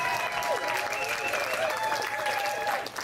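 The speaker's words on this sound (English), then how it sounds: "Give her another round of applause" An audience at a live International Women's Day show gives a steady round of applause, dense continuous clapping with some scattered voices mixed in throughout.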